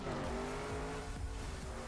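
A desert car in TrackMania drives with a constant loud engine drone under brief tire squeals and skids, close and continuous for under two seconds.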